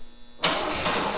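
A 1965 Rambler 770 convertible, burnt in a fire and long sitting, cranks and catches with a little throttle, a sudden loud start settling into a steady running rumble.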